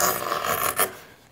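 A hand gouge shaves wood while rough-carving the inside of an archtop guitar plate, producing a close, raspy scraping stroke with a brief louder rub near the end.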